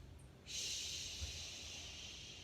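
A slow inhale through the nose during a yoga breathing exercise, a soft airy rush that starts abruptly and holds steady for about two seconds, close and quiet.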